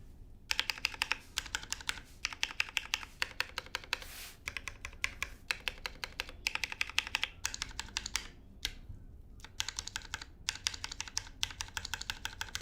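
Typing on a Foraz Signature Hope custom mechanical keyboard, a quick run of crisp clacky keystrokes in bursts with brief pauses, close and alone.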